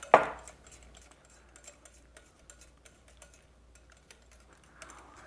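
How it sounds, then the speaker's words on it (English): A whisk working homemade ranch dressing in a bowl, making quick light ticking and tapping clicks in an uneven steady rhythm, close and fairly quiet, with a louder knock at the start. "I'm just gonna whisk it together"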